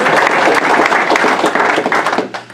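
A crowd at a 2018 valedictorian graduation speech applauds for themselves: loud, thick, close clapping from many people that holds steady, then thins and trails off into a few scattered claps near the end.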